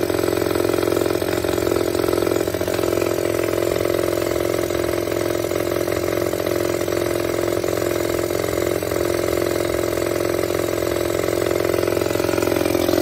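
A 1995 Honda XR motorcycle engine with a freshly rebuilt carburetor runs steadily and loudly nearby, holding an even idle with a constant buzzing drone and no voices.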